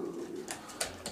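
Racing pigeon cooing softly in a loft, low throaty coos under a faint hiss of wings or shuffling, close to the microphone.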